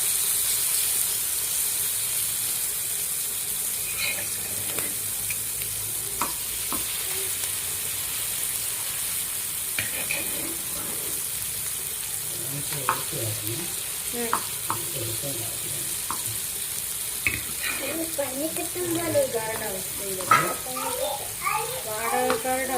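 Prawns fry in a pan, a steady, moderate sizzle with scattered spatters, while people talk intermittently nearby, including a voice toward the end.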